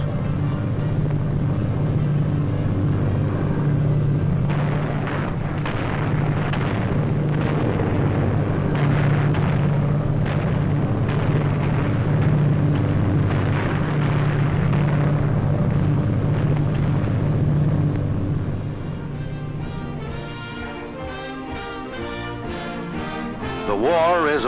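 Aerial bombs dropped from wartime aircraft explode in a long, heavy, rumbling barrage, dense and continuous, with a throbbing engine-like drone beneath that thins out near the end.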